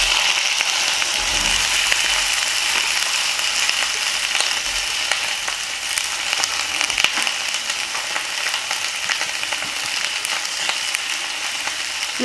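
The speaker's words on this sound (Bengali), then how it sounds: "এবার লাউ আর কাঁচা লঙ্কাটা আমি এর মধ্যে দিয়ে দেব।" Sliced bottle gourd and green chili hit hot tempering oil in a vegetarian lauki dish, giving a steady, close sizzle and frying hiss that holds evenly throughout with no talk.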